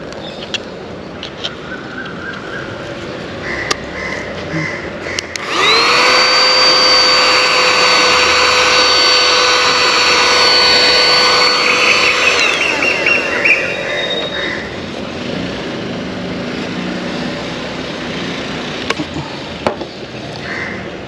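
A 120W wireless handheld car vacuum cleaner runs for about seven seconds with a loud, steady high-pitched whine, then spins down. Quieter handling clicks and room noise come before and after.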